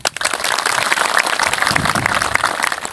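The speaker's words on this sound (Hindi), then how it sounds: "ऐसा व्यक्ति के लिए एक बार जोरदार ताली से स्वागत करें" Dense, energetic applause from a gathered audience welcoming an honoured person, a loud, continuous wash of many hands clapping that starts abruptly and holds steady throughout.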